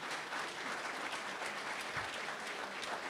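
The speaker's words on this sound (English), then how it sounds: "Can we have a round of applause for our ambassadors that helped check us in today?" Dense, continuous applause from an audience at a seminar on spending and protecting money, a steady wash of many hands clapping at even loudness throughout.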